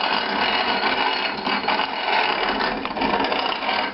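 An Estrella hand grinder's auger crunching dried mesquite pods as the long handle is cranked, a loud, continuous gritty grinding with rhythmic mechanical rattle, close up and without speech.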